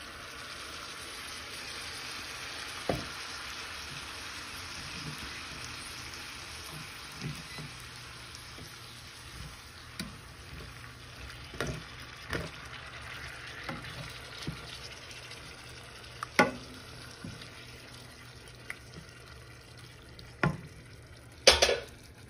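Tomato sauce goes into browned meat and garlic for an eggplant lasagna, stirred in a pan: a low steady sizzle with scattered spoon scrapes and clicks against the pan, close and moderate in level, no talk.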